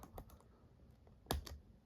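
Keys on a laptop keyboard are tapped a few times, soft scattered clicks with one sharper press, faint and close with no talking.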